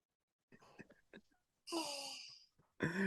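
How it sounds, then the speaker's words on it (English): A sleeping man snores loudly in two long, rasping, drawn-out breaths, preceded by faint breathy murmurs and shuffling. "You can hear him snoring right now."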